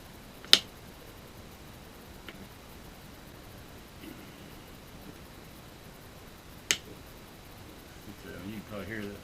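Two sharp plastic snaps ring out as seat cover clips pop into place on a 2007–09 Toyota Camry seat, separated by a few seconds of quiet with faint handling noise, followed by low talk near the end.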